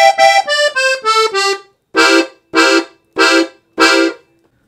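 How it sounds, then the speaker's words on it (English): Right hand alone on a piano accordion picks out a zydeco riff: five quick descending reedy notes, then four evenly spaced punchy chord stabs, loud and close with short gaps. "Now with just the right hand, it sounds like this."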